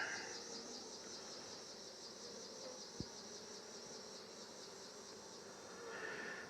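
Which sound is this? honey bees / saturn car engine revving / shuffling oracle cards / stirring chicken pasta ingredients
honey bees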